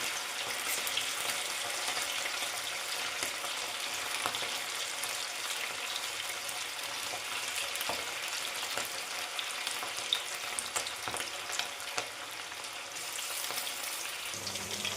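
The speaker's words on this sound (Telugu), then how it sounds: "బాగా ఎర్రగా వచ్చినప్పటి వరకు ఎరగనివ్వాలి" Chicken pieces deep frying in hot oil, a steady dense crackling sizzle that stays loud and continuous throughout, with no voices.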